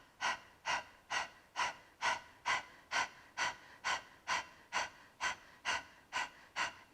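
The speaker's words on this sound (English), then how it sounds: "we'll start with the panting, and then part of the way through, close the mouth and breathe through the nose like this" Rapid, even Breath of Fire panting with the mouth open and tongue out, about two sharp breaths per second, close and steady, with no talking.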